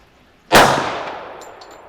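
One loud .45 ACP pistol shot fired at a target during a shooting challenge, a sharp crack after a quiet moment that rings out into a long, fading echo, with no talking.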